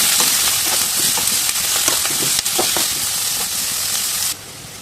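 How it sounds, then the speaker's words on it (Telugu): Green chillies and chopped onion fry in hot oil, a steady, loud, dense sizzle with scattered crackles and pops throughout. The sizzle drops sharply near the end. "చీర్చుకున్న పచ్చిమిర్చి కట్ చేసిన ఆనియన్ కొంచెం కలర్ వచ్చే వరకు వేసేసుకోండి"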